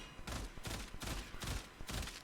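Burston Prime rifle firing in the Warframe video game at medium range: four loud, dense bursts of rapid gunfire in steady succession, with no talk.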